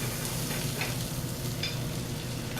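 About a tablespoon of butter sizzles as it melts in a pan while fish cooks, a steady close crackling fry with a few brief brighter spits, with no talking.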